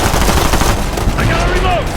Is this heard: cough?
no